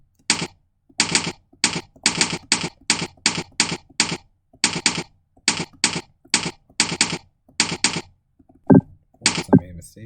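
Keyboard typing during a typing lesson, heard close up as rhythmic bursts of rapid keystrokes separated by short pauses, with a couple of heavier thumps near the end.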